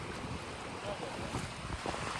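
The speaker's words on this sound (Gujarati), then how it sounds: "અહીંયા પાણીનો ફ્લો બહુ વધારે છે તણાઈ જાય એવું છે" A fast-flowing river with a dangerously strong current rushes in a continuous close roar, with wind buffeting the microphone.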